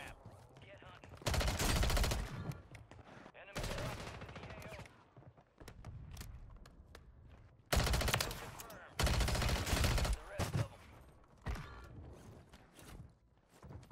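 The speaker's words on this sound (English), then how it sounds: "Gun." Loud bursts of automatic gunfire in Call of Duty Warzone on Rebirth Island, several heavy volleys separated by quieter stretches with footsteps and ambient game noise.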